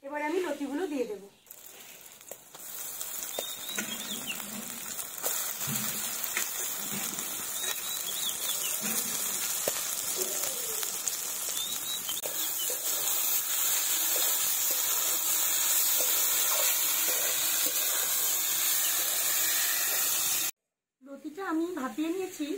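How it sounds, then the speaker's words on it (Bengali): Steamed taro stolons hit a pan of fried chili powder, turmeric, salt and sugar, setting off a loud, sustained hissing sizzle that runs for many seconds while a voice talks over it. "মশলাটা আমার ভাজা হয়ে গেছে এবার আমি লতিগুলো দিয়ে দেব"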